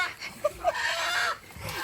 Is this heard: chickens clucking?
yes